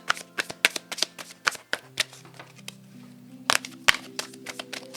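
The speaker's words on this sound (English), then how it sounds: "I gotta shuffle a little bit more" Tarot cards are shuffled close up in a quiet room, giving bursts of quick, crisp riffling clicks and snaps in uneven clusters, with no voices.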